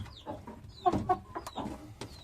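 A Malatya-type Arabian hen clucks in a short run of close, uneven calls with brief louder bursts, set against faint farmyard background noise.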